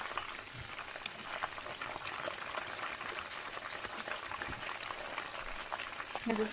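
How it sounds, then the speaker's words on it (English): Fish frying in a red pepper and tomato sauce while being turned, a steady bubbling, crackling sizzle that carries on throughout, with a little extra clatter near the end. "So guys, I'm gonna turn my fish again."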